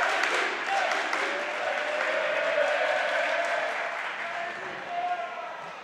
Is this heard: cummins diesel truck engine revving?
no